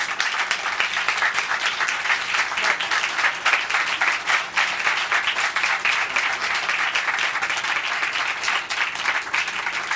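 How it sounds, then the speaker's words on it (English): A crowd applauds warmly and steadily as Congressman Bobby Rush is welcomed to the stage, dense clapping filling the room at an even level throughout with no talk over it. "Will you help me to welcome him with a warm round of applause"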